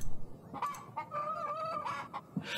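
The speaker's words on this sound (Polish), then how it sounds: "Ja uwielbiam ten dźwięk o poranku, jak mnie koguty budzą" A rooster crows in a drawn-out, wavering call with clucking fowl sounds around it, somewhat thin and processed, from the video game Yes, Your Grace.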